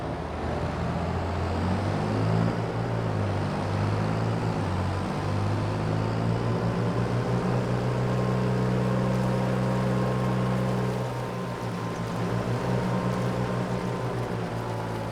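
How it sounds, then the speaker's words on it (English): Tractor engine running steadily in a farming video game, a loud continuous low drone with shifting tonal hum and no talking over it. "Fire up the tractor."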